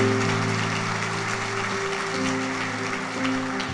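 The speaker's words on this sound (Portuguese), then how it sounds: "pode aplaudir o Senhor" A church congregation applauds in a steady, dense wash of clapping under sustained organ or keyboard tones, with the clapping mixing evenly into the music throughout.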